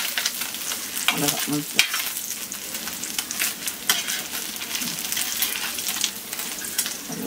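Anchovies (nethili fish) fry in an iron pan with a steady, bright, crackling sizzle throughout, broken by occasional scraping stirs. A voice briefly says a word near the end.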